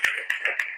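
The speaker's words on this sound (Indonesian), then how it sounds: "tepuk tangan untuk kita semua." A classroom of students clapping together: four sharp, evenly spaced claps in under a second, close and moderately loud.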